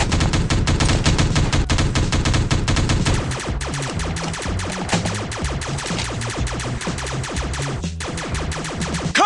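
Rapid gunfire from the Teddy Bear Gun Strike video game: dense, steady bursts of automatic shots that run loud and unbroken over a game soundtrack for the whole stretch.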